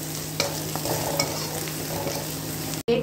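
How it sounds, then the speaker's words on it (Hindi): Onions frying in a pan as turmeric is stirred in for khichdi, a steady close sizzle with soft stirring scrapes throughout and a brief cut near the end. "प्याज को मैं हल्का ब्राउन होने तक भूनूंगी"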